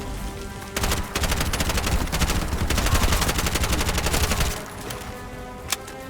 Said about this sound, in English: Shots coming from everywhere.